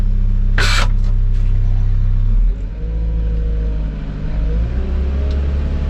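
Diesel engine of a Mecalac backhoe loader during trenching practice for power and water lines, a loud steady low rumble that drops in pitch partway through, then settles into a lower idle-like drone, no talk.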